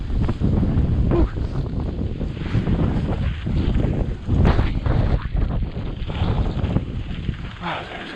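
Blizzard wind roars against the microphone while riding a bike home, a loud, gusty, continuous buffeting with surges and brief faint voices beneath it.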